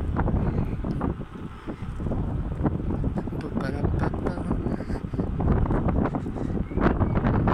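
Heavy wind buffeting the microphone outdoors while riding an electric unicycle on a sunny day, a constant rumbling roar that swells and dips, with a voice speaking faintly underneath.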